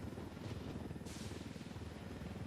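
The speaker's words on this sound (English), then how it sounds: "where that helicopter is below us" Helicopter rotor in the open-world shooter Ghost Recon Wildlands, a steady low thudding drone that runs through the whole moment without pause, heard from some distance below the listener.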